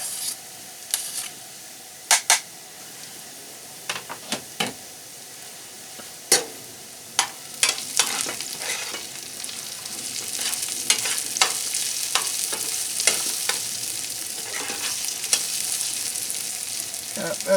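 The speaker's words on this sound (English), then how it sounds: "I think I'll add those little cloves of garlic now to that." Small garlic cloves drop into a hot pan, with sharp clicks and knocks at first, then a continuous loud sizzle and hiss takes over, broken by occasional scrapes of stirring.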